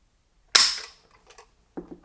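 A dry trigger pull on a Century Arms AES-10B2, a semi-auto Romanian RPK in 7.62x39, gives one sharp, loud, close metallic snap that decays quickly, followed by a couple of faint small clicks.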